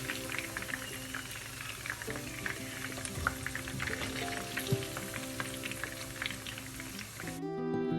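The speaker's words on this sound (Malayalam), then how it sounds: "എല്ലാ സൈഡും തിരിച്ചിട്ട് നല്ലപോലെ ഫ്രൈ ആവട്ടെ" Pieces of chilli chicken deep-fry in hot oil, giving a dense, continuous bubbling crackle that stays steady and close throughout.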